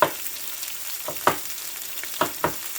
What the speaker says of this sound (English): the sizzling of those pork chops